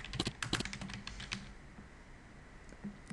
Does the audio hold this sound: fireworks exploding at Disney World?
no